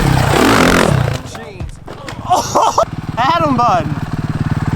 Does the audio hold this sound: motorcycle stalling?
yes